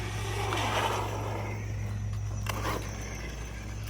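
A Hosim X08 RC car on a 2S LiPo drives across grass, its electric motor whirring steadily through a hum with a slight surge as it passes, no voices present.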